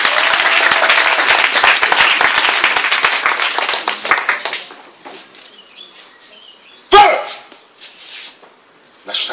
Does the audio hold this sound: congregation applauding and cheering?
yes